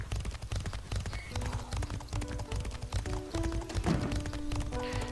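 Horse hooves clip-clopping in a video game, a steady quiet trot of rapid tapping beats under a soft musical bed, with no talking over it.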